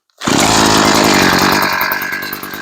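A Wildbadger 52cc brush cutter's two-stroke engine fires on a single pull and roars loudly up close, a continuous buzzing drone that eases slightly as it settles toward idle, with no voices.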